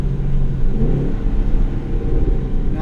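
The engine of a 2016 Holden Commodore VFII SS-V drops back from 3000 RPM with a loud, deep, steady rumble from inside the cabin, easing off with no throttle blip.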